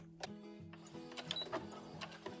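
Sewing machine stitching a half-inch seam through layered fabric with interfacing for a scrappy fabric dog leash, a steady mechanical whir with repeated ticking needle strokes, close and moderately loud, with no talk.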